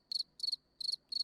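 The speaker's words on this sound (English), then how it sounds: "lots of katydids" Katydids and crickets chirp in a quiet meadow, four crisp pulsed bursts repeating steadily and close, with no other sound around them.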